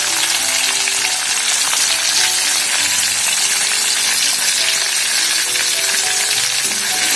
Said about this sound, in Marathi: छान फोडणी झाली की लगेच आपल्याला एक बारीक कट केलेलं टमाटर घालायचं यात